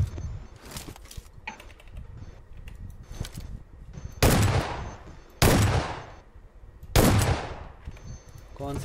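Gunfire in PUBG, a few scattered lighter shots followed by three loud, heavy blasts with long reverberant tails trailing off, close and without talking.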